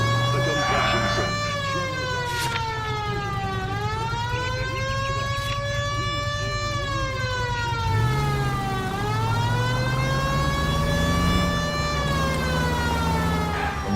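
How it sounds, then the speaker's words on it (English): Police car siren in the crime video game L.A. Noire wails in long rising and falling sweeps throughout, loud and steady, with background game dialogue and traffic sounds underneath. "The siren, Cole. Use it."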